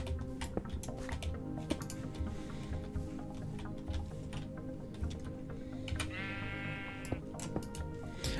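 A sheep bleats once in Minecraft, a short wavering call from the game, heard over steady clicking and tapping keys with a faint background hum.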